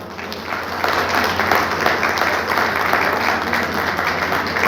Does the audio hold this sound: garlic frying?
no